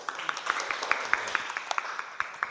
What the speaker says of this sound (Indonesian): tepuk tangan buat Reni